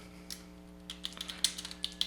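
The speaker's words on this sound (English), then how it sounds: "let's start typing" Quick typing on a computer keyboard while a logo is built in Photoshop, a steady patter of light key clicks with a few sharper taps, close and alone with no voices.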